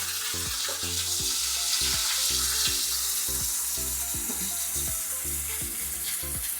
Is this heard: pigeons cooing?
no